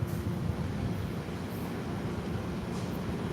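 A Sounder commuter train rumbles steadily as it arrives, a broad continuous roar of rail noise at moderate distance, with no talking over it.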